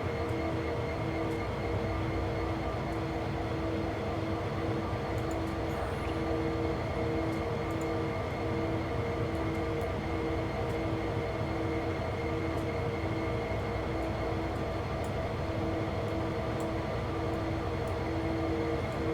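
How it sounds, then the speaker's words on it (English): A train rolling past in the Train Sim World 3 game, a steady continuous rumble with hissing wheel and track noise throughout, no talking. "We would have had to wait for that train to clear our route anyway."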